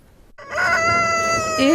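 A rooster crows once loudly and close by, a long rising then sustained call with a short upturned ending, heard alone without talk.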